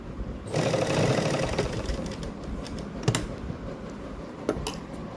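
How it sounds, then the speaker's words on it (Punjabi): A sewing machine stitches piping onto a lined suit, running in a close continuous whirring burst that then tapers into lighter mechanical rattling and a few sharp clicks. "ਉਹਨੂੰ ਇੱਥੇ ਆਪਾਂ ਡਬਲ ਸਲਾਈ ਕਰ ਦਿਆਂਗੇ"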